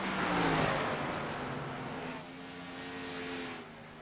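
Race car engines roar in the iRacing sim at an oval event, a loud close pass with sustained harmonic whine that gradually recedes, engine drone lingering steadily underneath.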